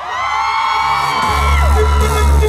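A dense concert crowd at a dancehall show in 2010 screams and whoops loudly and continuously, a roaring wall of voices swelling toward the end.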